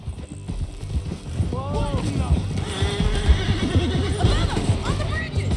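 In Red Dead Redemption 2, a horse neighs loudly while hooves clip-clop in quick galloping rhythm, with someone shouting briefly over the action.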